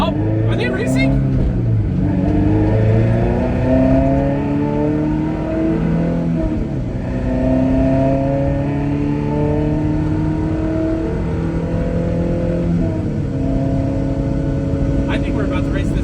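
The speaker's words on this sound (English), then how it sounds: "I think we're about to race this Civic." Cars, including a Honda Civic, race past with loud, continuous engines that repeatedly rev up and climb in pitch. Voices talk over the noise.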